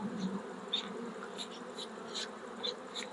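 Honey bees buzz around a hive in the mountains, a steady close drone with individual bees zipping past in short brighter bursts, no voices present.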